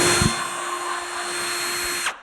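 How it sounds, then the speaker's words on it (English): A high-pitched drill whines steadily for about two seconds, close and shrill, then spins down quickly. "the drill hits a nerve"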